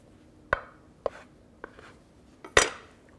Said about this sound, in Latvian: Un pēc tam sagriežam vienkārši tādos rupjos kubos.